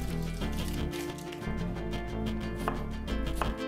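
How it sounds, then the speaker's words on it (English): A knife slices through an onion on a cutting board, a steady run of close, crisp chopping thuds at an even rhythm, continuous for several seconds. "Then I cut almost to the end into slices."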